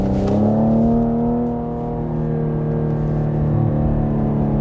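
A 2020 Cadillac CT5-V engine revs loudly and steadily while the transmission holds its gear, the drone sustained and close with no talk over it.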